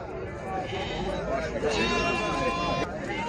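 Lambs bleat among the sheep and goats at a busy livestock bazaar, several wavering cries rising over a constant hubbub of crowd chatter and nearby talking.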